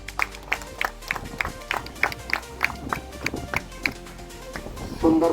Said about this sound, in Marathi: टाळ्या वाजवायच्या सगळ्यांनी.